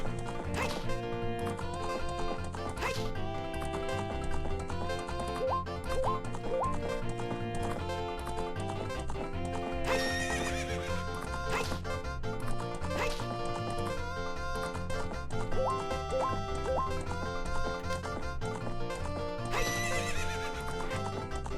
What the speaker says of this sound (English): A man and his horse.